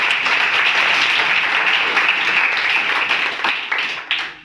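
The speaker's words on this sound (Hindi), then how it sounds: "सभी एक बार जोरदार तालियों से" An audience at a coaching centre's foundation day celebration breaks into loud, dense applause that holds steady before tapering off near the end.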